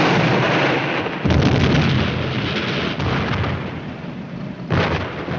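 War-film battle sound of a 90mm tank gun firing at a Panther tank: loud, close booming blasts, one near the start and another near the end, over continuous rumbling explosion noise.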